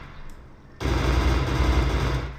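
An M4 rifle fires in a Unity 3D bootcamp game demo, a sudden loud burst of rapid automatic shots that starts abruptly after a quiet moment and keeps going dense and continuous.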